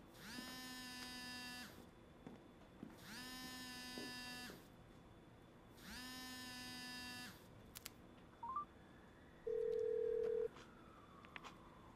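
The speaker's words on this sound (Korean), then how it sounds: "계속 전화 오네." A phone vibrates in three long, even buzzing bursts with pauses between them. It is close and moderately quiet, and a few small clicks and an electronic beep follow.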